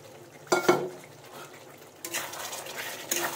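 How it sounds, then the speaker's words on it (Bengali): A metal utensil clatters and scrapes in a pan as fried pointed gourd is added to a potato curry cooked in oil, with a few sharp knocks and a lighter burst of clinking and scraping near the end. "এবার কিন্তু আমি ভাজা পটলগুলো দিয়ে দেবো।"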